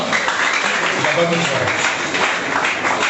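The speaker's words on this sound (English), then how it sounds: "Please, please, can you clap for her?" Crowd applause at a debate fills the space, a dense wash of many hands clapping, with a voice speaking over it.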